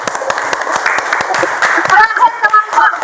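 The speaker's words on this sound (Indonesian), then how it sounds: "Tepuk tangan dulu." Classroom applause for a student group after a science lesson on the human digestive system, a short burst of scattered clapping from a class of children, fairly close, with voices chattering over and among the claps.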